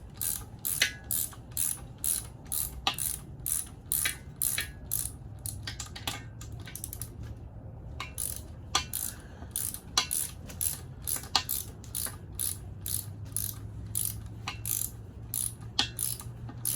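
A pass-through socket set ratchet clicks in repeated fast bursts, crisp pawl ticks in rhythmic strokes with short pauses between, close and clear over a faint low rumble, with no talking.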